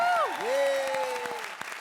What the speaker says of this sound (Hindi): ताली बजाओ कॉमेडी सर्कस के लिए